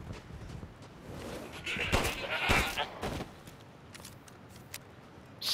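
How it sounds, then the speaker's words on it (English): Goats in the survival horror game Resident Evil Village bleat in several bursts, loudest in the middle, with thuds and game noise around them and no talk. "These goats are mean."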